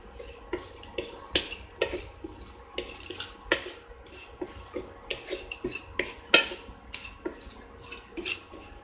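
Spice powders being sautéed with onions on a low flame for Kongu-style chicken varuval, with a spatula scraping and clanking irregularly against the pan, close and with no talking.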